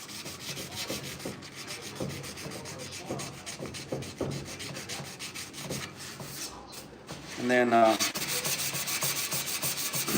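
A 1968 Chevrolet C10 grill shell is hand sanded in preparation for epoxy primer, with rhythmic back-and-forth rasping strokes, close and steady, turning rougher and louder near the end.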